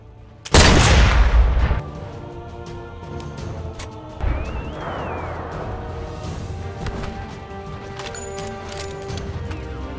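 A rifle fires in the Sniper Elite VR video game, one loud close boom followed by a rattling decay, then a second heavier impact and faint mechanical clicks trailing off.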